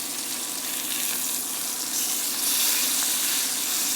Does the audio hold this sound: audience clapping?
no